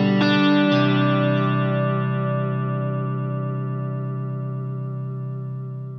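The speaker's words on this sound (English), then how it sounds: "this pedal is it just has an incredibly beautiful chorus sound" An electric guitar through a Walrus Audio Julianna chorus pedal, a distorted strummed chord ringing out with shimmering chorus modulation and slowly decaying over several seconds.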